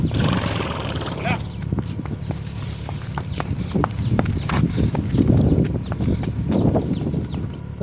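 Two mares move about with a close, steady clip-clop of hooves and occasional neighs, with background noise and faint voices.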